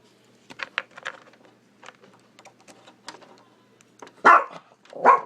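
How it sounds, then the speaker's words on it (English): Dogs barking in a few sharp, loud bursts near the end, preceded by quieter scattered yips and clicks in an otherwise hushed indoor room. "Sorry, the dogs are tripping out."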